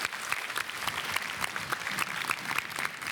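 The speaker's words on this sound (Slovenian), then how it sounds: "en velik aplavz za osnovno šolo Šmarje Sap" A school audience gives a round of applause for the Šmarje-Sap primary school team at a quiz competition, dense clapping at moderate volume lasting the whole moment.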